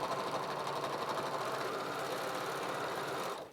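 A Bernina 1300MDC serger stitches through layered quilt fabric, running as a steady, loud mechanical whir with a fast rhythmic chatter for about three seconds before cutting off abruptly at the end.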